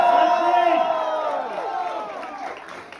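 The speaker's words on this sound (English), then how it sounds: "can we have a loud round of applause for the new couple" Wedding guests clap and cheer for the newlyweds, a lively crowd burst that starts loud with whoops and gradually fades, with tonal ringing layered over it.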